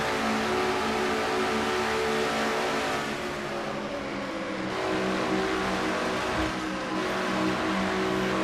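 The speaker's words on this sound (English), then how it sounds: "On board Quentin Moore's car number 89." An onboard engine roars steadily inside car number 89 during a stock car cup race at Auto Club, a loud, continuous, close-miked drone with slight swells as it revs, with no talk.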